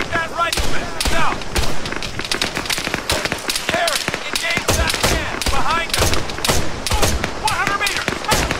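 Rifle fire in ArmA 3 sounds in rapid, sharp bursts of close gunshots repeating throughout, with voices calling out between the shots.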